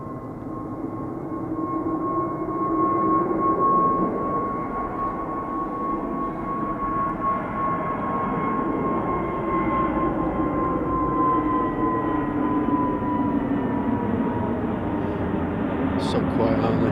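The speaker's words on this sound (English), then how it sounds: "A320neo, Guzlo, G-U-Z-L-O, EasyJet off to Paris, Charlie de Gaulle." An EasyJet Airbus A320neo, registration G-UZLO, takes off from runway 23 at Manchester Airport bound for Paris Charles de Gaulle, a steady, fairly quiet jet roar with a sustained engine whine held throughout.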